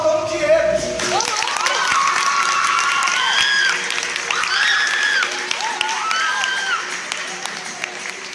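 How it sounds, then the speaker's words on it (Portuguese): An audience applauds at a capoeira presentation, steady clapping with some cheering filling the space for several seconds after a brief spoken introduction. "Para vocês aplaudam o Diego."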